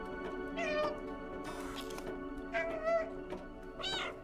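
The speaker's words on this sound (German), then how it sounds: "Boah, ich liebe das Miauen." A cat meows three times in the video game Stray, each call rising and falling in pitch, close and fairly loud over a soft background game score.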